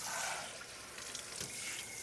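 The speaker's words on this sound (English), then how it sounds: "then pour it in the strainer" Rinsed rice and its water poured into a strainer in a home kitchen, a brief soft splashing trickle of liquid lasting about two seconds, fairly faint.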